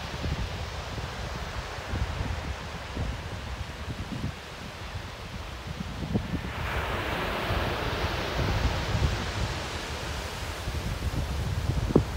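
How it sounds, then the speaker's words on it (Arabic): Sea waves wash onto the shore in a steady, broad rush under gusty wind buffeting the microphone, swelling louder partway through and staying continuous with no voices. "ها هو جا عندكم البحر"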